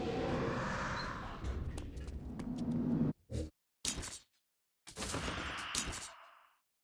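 Rapid bursts of gunfire in the video game Saints Row: Gat out of Hell crackle with a few sharp isolated shots, then abrupt silences between short loud blasts.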